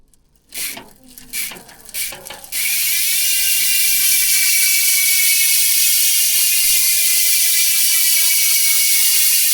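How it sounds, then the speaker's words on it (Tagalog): A Speedway Armorer MTB rear hub freewheels with a rapid, continuous buzzing ratchet whir, loud and close, preceded by a few clicks and clunks from handling the bike wheel. "so yan yung tunog ng Speed 1 Armorer MTB hubs kapag naka-freewheel"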